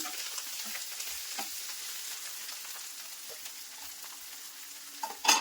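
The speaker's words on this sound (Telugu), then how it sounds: "1 నిమిషం చక్కగా ఫ్రై చేసుకోవాలండి." Coriander leaves fry in a pan for a chicken curry, a steady close sizzling hiss with a few soft clicks and a louder clatter of the pan at the end.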